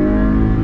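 BMW E36 engine at full throttle, a loud, close, steady roar with strong low rumble, very brief and with no talk.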